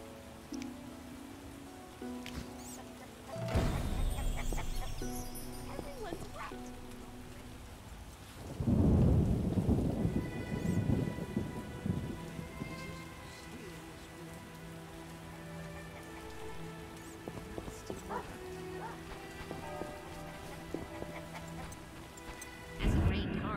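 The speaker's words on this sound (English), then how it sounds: "Hasn't rained hard in a while." Rain falls steadily in a thunderstorm in the video game The Witcher, with a loud crash of thunder early on and a heavier rumbling roll midway, under occasional soft talk.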